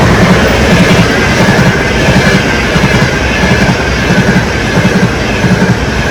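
Loud, close train roars past a camper area in Osimo, a steady rumble with rhythmic clickety-clack of wheels over rail joints filling the whole stretch without pause.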